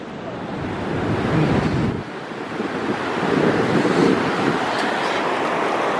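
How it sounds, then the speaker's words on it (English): Ocean waves washing up on a sandy beach, a loud continuous rushing surf with swelling and receding surges, buffeted by heavy wind noise against the microphone. "the ocean makes you come all the way forward and then it runs and gets you"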